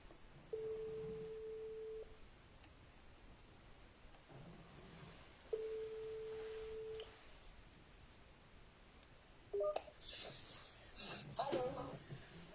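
Telephone call tones from a listener phoning in to a live talk broadcast: two steady, level electronic tones about a second and a half each, separated by a gap, then short bursts of line noise and clicks near the end.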